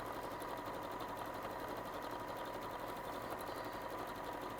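A sewing machine runs a close edge stitch along fabric held against the presser plate, a steady fast whirring hum that stays even and continuous throughout, fairly quiet and with no voices.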